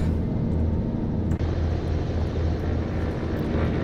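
A simulated SR22 light aircraft engine in a flight simulator game drones loudly and steadily throughout, a dense propeller hum with no talk over it.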